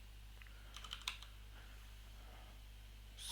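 Typing on a computer keyboard during a coding session, a short, quiet burst of several key clicks near the start followed by faint background hum.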